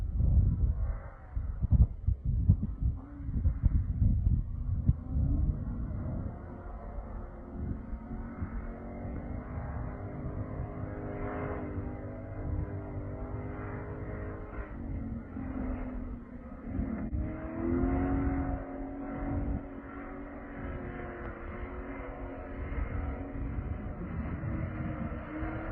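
A 2001 Ford Mustang Bullitt V8 with a catback exhaust rumbles deep and steady, revving and settling with throaty low-end drone, heard close for a long stretch with no talk.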